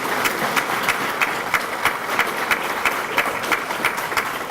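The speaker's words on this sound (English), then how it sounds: "let's give him another hand clap" Banquet audience clapping at an annual memorial banquet, steady applause from a moderate-sized crowd with a few sharper, more prominent claps standing out at regular moments.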